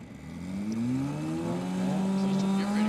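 Black Honda Civic drag car in a sim racing game, its engine droning steadily as it creeps forward to stage, pitch rising gradually and holding a smooth, close hum.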